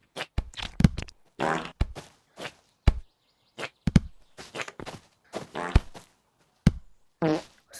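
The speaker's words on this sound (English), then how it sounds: "Is that a whoopee cushion or is that actually you farting?" Rapid string of short fart noises, some quick and sharp, others longer and buzzy, bursting out one after another at close range with irregular gaps between them.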